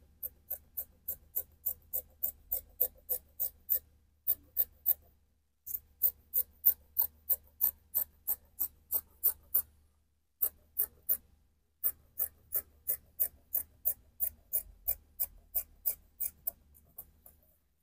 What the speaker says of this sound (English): I just cut it again, just the way I'm doing now